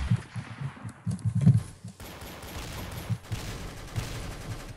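Gunfire in Roblox Arsenal, sounding as rapid close bursts of shots clustered in the first half, then lighter scattered pops and thuds over a busy game background.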